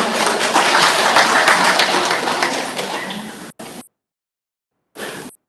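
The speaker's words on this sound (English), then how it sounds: "ladies and gentlemen, give a big applause to Professor Jim Lindsey" Audience at an international seminar on Indonesian criminal law applauds a speaker, a dense, steady wash of clapping that fades and cuts to silence, followed by a brief burst of noise.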